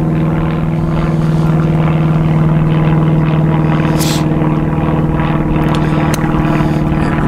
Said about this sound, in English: we'll look up and see if we can see this plane up here somewhere